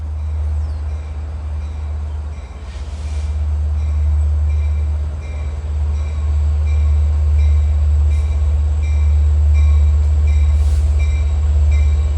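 LIRR train 58, led by engine 405, rolls past on the Montauk Branch near the Connecticut Avenue crossing east of Babylon. A loud, steady low rumble and drone build and hold throughout, with no horn clearly standing out.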